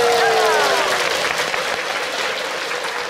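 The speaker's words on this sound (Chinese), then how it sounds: "掌声鼓励一下" Studio audience applause on a Hong Kong game show, a loud dense burst of clapping that holds steady for a few seconds, close and filling the room with no talk over it.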